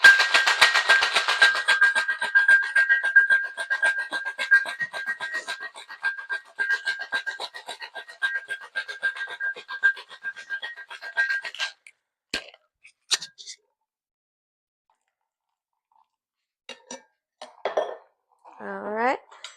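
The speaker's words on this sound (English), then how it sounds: "Shake it till it's in our ice cold hands." Ice rattling hard in a cocktail shaker for a 20th Century cocktail, a fast, steady, loud shaking rhythm for about twelve seconds, followed by a few scattered clinks and quiet handling noises.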